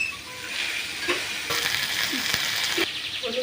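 Chili paste hitting a frying banana curry: a continuous crackling sizzle close by, with a few sharp spatula strokes and scrapes across the pan, nobody talking.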